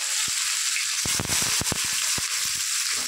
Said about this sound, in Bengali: এই যে এখন পেঁয়াজটা দিয়ে দিলাম।